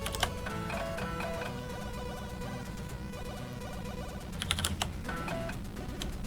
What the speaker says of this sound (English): I think I can just type a Y